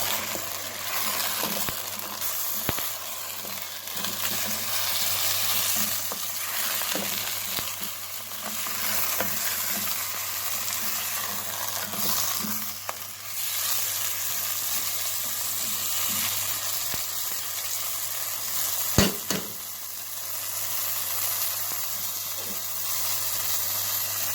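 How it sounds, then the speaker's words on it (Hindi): Chicken with garlic-ginger paste fries on high heat for a chicken karahi, a continuous dense sizzle with a low steady hum beneath and occasional scrapes and knocks of stirring, close up. "इसे डालकर अच्छी तरह से हम भून लेंगे तेज आंच पे"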